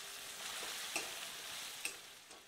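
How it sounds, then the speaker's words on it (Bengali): Chopped tomato and onion stirred and fried in oil in a pan make a steady sizzle with soft scraping from the spoon and a couple of sharper clicks, close and continuous with no talking. "একটু তেলে নাড়াচাড়া করে ভেজে নিচ্ছি"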